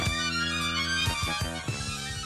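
Instrumental interlude from a song, dense sustained chords punctuated by a few heavy accented hits, played at moderate volume with no singing.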